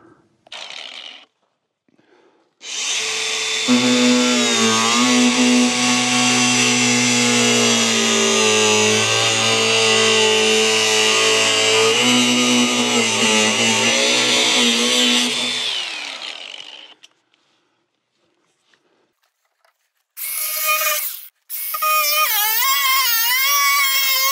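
Angle grinder cutting an IBC tote to make firewood storage: a loud, steady high-pitched whine with grinding rasp lasting about thirteen seconds, then silence and brief shorter bursts of cutting.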